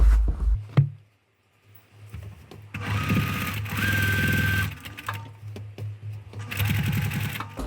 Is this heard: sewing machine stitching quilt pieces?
yes